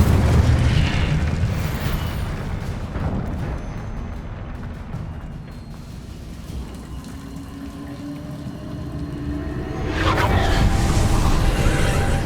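Spell explosions from the video game Hogwarts Legacy erupt as heavy booming blasts with a rolling, fiery rumble that dies down midway and then surges loud again near the end.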